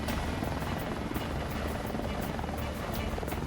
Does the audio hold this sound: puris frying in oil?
no